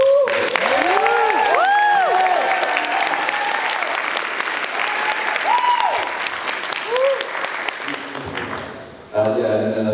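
A convention panel audience bursts into loud, sustained applause with scattered whoops and cheers, filling the room continuously before cutting off near the end, with a voice faintly underneath.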